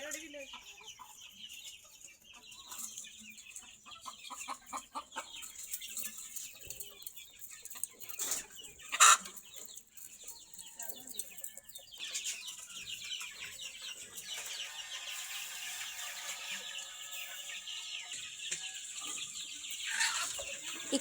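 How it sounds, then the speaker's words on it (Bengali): Desi country chickens cluck and chatter at morning feeding, a busy flock calling at moderate distance with occasional sharper squawks over a steady farmyard murmur. "এখন যে মুরগিগুলো দেখছেন এগুলোকে আমরা প্যারেন্টস করার জন্য রেখে দিয়েছিলাম"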